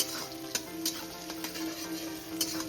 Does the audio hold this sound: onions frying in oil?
yes